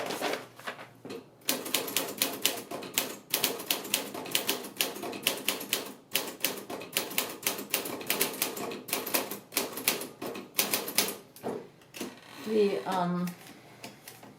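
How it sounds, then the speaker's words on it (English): Keys clack rapidly on a 1948 Sterling manual typewriter typing on paper, a dense, loud run of metallic strikes broken by short pauses, ending with a carriage return and bell. "So I'll do a new type test with some decent paper,"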